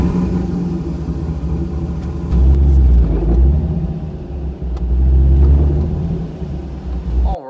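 Corvette engine rumbling while driving, with a loud, steady low drone that swells as it revs twice and then eases off in between.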